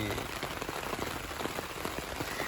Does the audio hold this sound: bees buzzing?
no